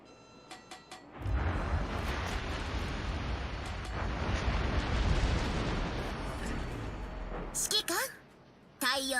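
Naval shells striking and exploding in World of Warships Legends, a long roaring burst of booms and rumbling blasts that fades out, with short beeps before and after.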